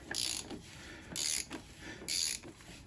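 Ratchet with a 32mm socket tightening the oil filter housing on a Skoda Yeti TDI, three quick bursts of fine clicking from the pawl, close up and otherwise quiet.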